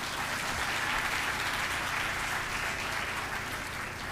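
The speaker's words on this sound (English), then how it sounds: "Let's give Ms. Sharon Anthony another round of applause" Steady applause from an audience at an awards-style celebration event, honoring a woman just introduced, continuous and fairly loud for the whole stretch with no talking over it.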